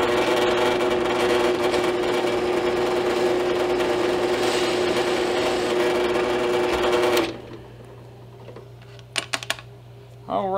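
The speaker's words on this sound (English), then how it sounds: "get my drill press set where I want it" A steady mechanical whine of a drill press with an 11/64 inch bit drilling through a leather chest holster for several seconds, then cutting off, followed by a few faint clicks and knocks.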